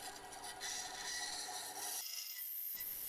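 A bandsaw cuts along the grain of a piece of wood, giving a steady, close rasping hiss that runs unbroken for about three seconds.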